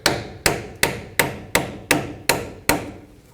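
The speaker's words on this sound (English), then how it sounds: "use a hammer and just hammer down the center." Eight sharp metallic hammer blows strike a nut on the lower control arm of a 2007-2014 GMC Sierra 3500 HD at a steady, unhurried pace, each ringing briefly before the next strike, close and loud with no talking.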